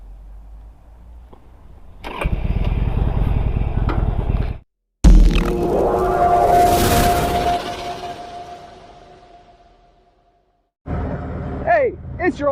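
A motorcycle engine starts up and runs loudly nearby in bursts, with brief drops to quiet between the rough, rumbling stretches.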